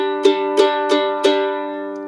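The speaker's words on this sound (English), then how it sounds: "the perfect fifth interval sounds like this" Two mandolin strings plucked together four times in an even rhythm, a perfect fifth, bright metallic tones ringing in harmony and sustaining between strokes.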